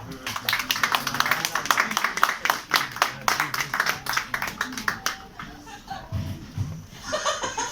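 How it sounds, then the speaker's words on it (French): Audience applause at a book-signing event with a film director in a Paris bookshop, dense rapid clapping at moderate volume with a few chuckles and voices mixed in, thinning toward the end. "Je vous remercie de nous applaudir."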